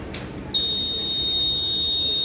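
A humidity sensor's buzzer switches on after a soft hiss and then sounds as a loud, continuous electronic tone held steadily to the end, close by.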